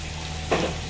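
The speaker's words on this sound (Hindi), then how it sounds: "इनको अच्छे से भून लेंगे।" Finely chopped onions fry in spices in a pan while making namkin chawal, giving a soft, steady sizzle with a short, slightly louder burst of crackling partway through.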